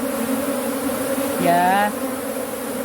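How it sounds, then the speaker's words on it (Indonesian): Apis cerana honey bees swarm around a sack, a steady close insect hum with one brief louder buzzing pass in the middle, alone without talk. "di kanan kiri belakang depan banyak lebah yang berkerumun"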